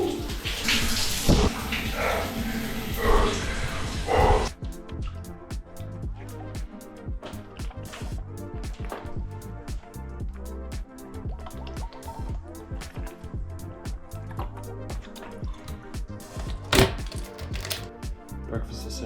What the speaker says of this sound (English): Here goes part 2 of the challenge, a daily staple of mine now, a cold shower.